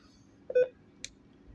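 An electronic device gives a short tonal beep, then a second brief higher chirp, in a quiet room.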